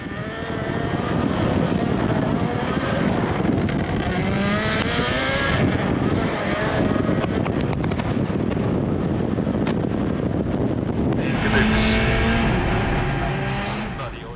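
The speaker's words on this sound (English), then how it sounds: "So now I hear the car is running already" A WRC rally car engine running nearby, a loud, continuous droning rumble with shifting revs that holds steady and then rises in pitch near the end, with faint voices underneath.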